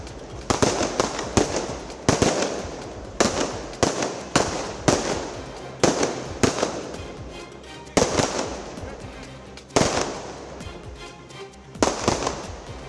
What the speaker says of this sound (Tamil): அரசால் அனுமதிக்கப்பட்ட நேரத்தில் மக்கள் பட்டாசு வெடித்து மகிழ்ந்தனர்.